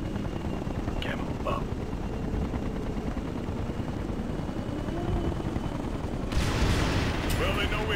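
A hostile helicopter in Ghost Recon Future Soldier gives a steady low rotor drone and engine rumble throughout, with brief metallic clanks near the start and louder broadband noise and clatter surging in toward the end.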